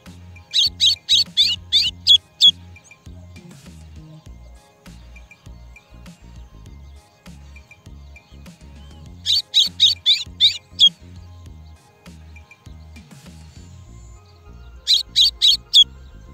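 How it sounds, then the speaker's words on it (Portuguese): Pet galo de campina birds (red-cowled cardinals) sing in three bright bursts of rapid repeated chirps, each lasting a couple of seconds, over steady low background noise and faint knocking. "Esses quatro pássaros aí eu jamais vou esquecer."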